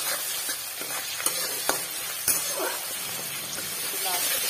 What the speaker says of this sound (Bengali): ভালো করে মিশিয়ে ভালো করে নেড়ে চেড়ে ভেজে নেবো।